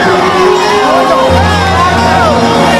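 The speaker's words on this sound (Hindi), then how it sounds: "एक जोरदार ताली बजाइए उमा शंकर भैया के लिए।" A crowd at a public event with Bhojpuri stars Khesari Lal and Kajal Raghvani cheers and whoops loudly, with voices shouting over a dense, continuous roar of the gathering throughout.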